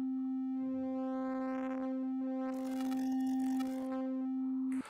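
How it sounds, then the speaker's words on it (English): A steady synthesizer tone from the Picotron fantasy console, with its waveform shifting from a smooth sine toward a buzzier square and stepped square, growing brighter before cutting off abruptly. "So it switches from a sine to a square to a step square wave"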